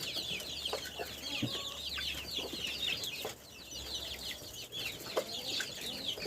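Small farm chicks squabble in their pen, a constant overlapping chatter of high peeps and clucks from many birds close by, with occasional brief flutters and scuffles.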